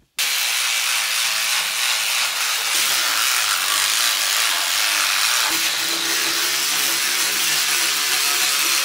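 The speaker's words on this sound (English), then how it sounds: "I'm also going to get out my sonic scrubber and just work the little corners of the sink" A battery-powered sonic scrubber works the grimy corners of a kitchen sink, giving a loud, continuous buzzing hum with scraping brush friction that holds steady for the whole stretch.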